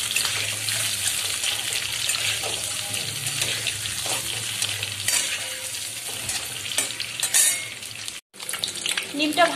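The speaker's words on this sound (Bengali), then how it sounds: "ডিমগুলো খুব বেশি ভাজা যাবে না, অল্প একটু লাল করে ভেজে নিলেই হয়ে যাবে।" Eggs fry in hot oil for egg korma, a loud, constant sizzle with occasional stirring scrapes and a short break near the end, mostly free of talk.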